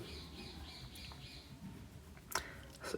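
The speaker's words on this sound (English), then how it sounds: "please ignore the bird. It won't stop chirping, right?" A pet bird chirps and squawks indoors, with faint repeated high chirps early on and then two sharper squawks near the end, all quiet behind a low room hum.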